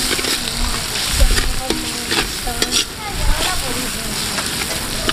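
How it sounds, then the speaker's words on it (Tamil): Tomatoes and onions sizzle and hiss in a hot pan while a spoon stirs and scrapes, with a voice talking over the cooking. "ஸோ தக்காளி வெங்காயம் வந்து நல்லா வதங்கிருச்சு,"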